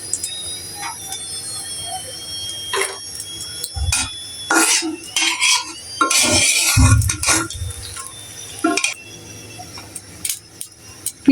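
Fried chili being lifted out of a cooking pan, with scattered metallic scrapes, clinks and rattles of utensil against pan in irregular bursts, fairly loud and close, without talk.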